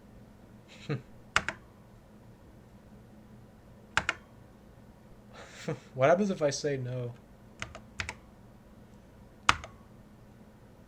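Keys clicking on an Apple IIe computer keyboard, a handful of sharp, separated taps spread across the span, with a person speaking briefly in the middle.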